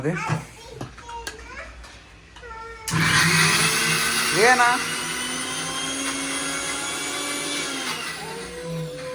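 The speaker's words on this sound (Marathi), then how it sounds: "डाळ वाटून घेते तर उद्या आहे ढोकळा ब्रेकफास्ट" A mixer grinder whirs steadily while grinding soaked dal into dhokla batter in a home kitchen, starting abruptly a few seconds in and running loud and continuous, with children's voices and adult talk around it.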